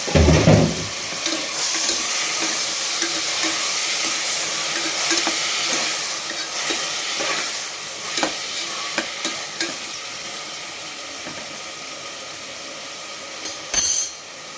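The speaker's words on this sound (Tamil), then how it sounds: "இப்போ நம்ம நறுக்கி வச்சுக்கினா தக்காளியை சேர்த்துக்கலாங்க." Chopped tomatoes go into sautéed onions in a pan for tomato rice. A steady, close sizzle of frying is broken by stirring scrapes and a few clinks, with a louder clatter near the end and no voices.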